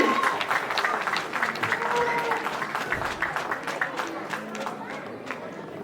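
Warm applause from an audience at a Tamil New Year community celebration in Buffalo, New York, rises as dense clapping, then thins into individual claps that taper off, with murmured chatter underneath.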